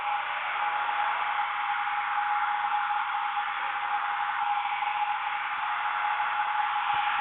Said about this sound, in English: So again, this is a cold hair dryer, not hot at all.